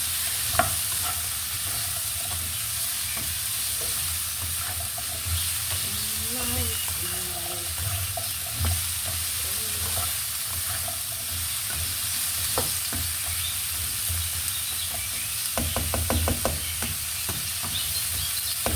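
Carrots and chayote stir-fry in a pan with a loud, continuous sizzle and hiss, while spatula scrapes and taps come and go and a voice murmurs faintly in the background.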